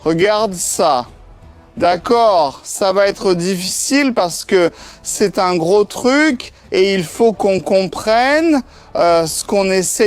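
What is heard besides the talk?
No distinct noise like a dog, phone or traffic.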